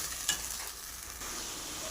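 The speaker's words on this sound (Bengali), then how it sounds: "এখন মশলাগুলো দিয়ে ভালো করে কষাবো" Whole spices with bay leaf, cumin, onion and whole garlic cloves fry in oil, a loud continuous sizzle close by with stirring movement and one sharper clack early on.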